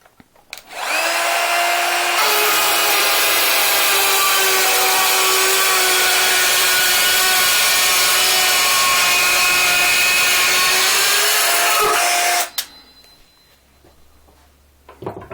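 Bosch PKS 10.8 Li cordless circular saw cutting wood, spinning up into a loud steady whining cut lasting about ten seconds, then winding down to quiet handling noise.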